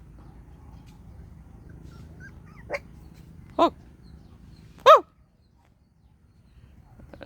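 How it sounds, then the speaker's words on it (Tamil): Newborn puppies in a garden give three short, sharp yelps at rising volume, a couple of seconds apart, over a quiet outdoor background with no speech. "புது வரவு பார்க்குறீங்களா நாலு நாய்க்குட்டிங்க"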